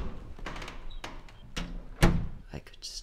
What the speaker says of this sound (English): as I pressed against the heavy metal door